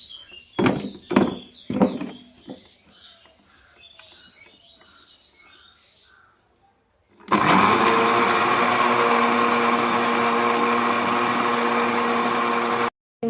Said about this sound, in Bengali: এবার এটা ব্লেন্ড করব।